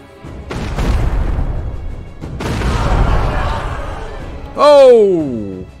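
Cannon artillery fire in the revolution-era strategy game We. The Revolution: two loud booming blasts with long rumbling decays, followed by a sharp descending whistling effect.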